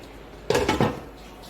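Fresh raw fish pieces for a tomato fish curry go into a cooking pan, giving two quick metallic clinks and clatters close by, followed by quiet.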